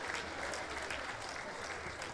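Steady audience applause at a 2013 fair in Ribnica, a dense, continuous patter of many hands clapping at moderate volume for the whole stretch, with no voices rising above it.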